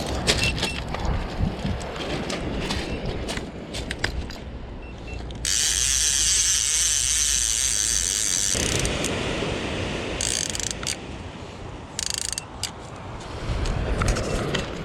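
A surf fishing reel winds in line while an Aeroo Pro drone returns to land. Irregular ratcheting clicks and mechanical rattles come with a sustained high whirring stretch partway through, all close and fairly loud.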